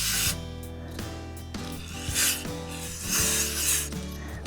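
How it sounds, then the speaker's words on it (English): Spray cleaner blasts into an AR15 rifle chamber over a pan, producing a harsh, continuous hiss layered with rough scraping and rattling. "I'm going to blast the chamber out."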